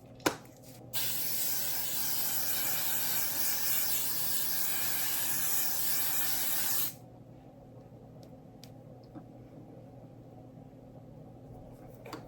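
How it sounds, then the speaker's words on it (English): A single long, loud hiss from an aerosol makeup setting spray held close, running about six seconds, then cutting off to quiet room tone. "I'm going to spray it up and then we'll get going."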